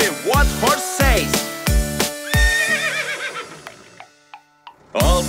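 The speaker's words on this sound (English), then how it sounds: "No, it's just a horse's neigh." Horse neighs and whinnies in a children's song, several loud bright calls in quick succession with descending tails, a brief quieter gap, then another neigh bursting in at the end.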